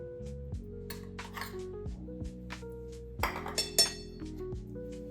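A spoon mixes gram flour into soaked poha dough in a bowl for avalakki masala roti, giving scattered light clinks against the bowl, clustered near the end, over soft background music.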